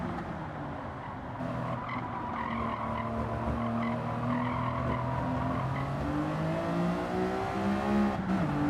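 Race car in Gran Turismo 7 roaring steadily with a rising engine note, tires skidding and squealing as it corners, loud and continuous.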